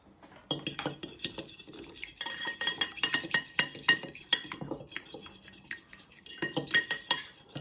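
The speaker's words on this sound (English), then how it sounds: "Just want to give this a little whisk." A whisk beating cracked eggs in a bowl for an egg wash, rapid clinking and scraping strokes in quick uneven bursts with brief pauses, close and moderately loud, with no voices.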